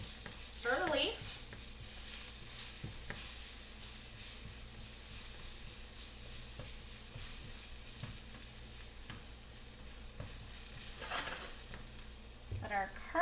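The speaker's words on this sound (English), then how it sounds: "stir the leeks" Leeks stirred and caramelizing in a frying pan for potato leek soup, a steady broadband sizzle running throughout with scraping stir strokes near the start and end, no voices.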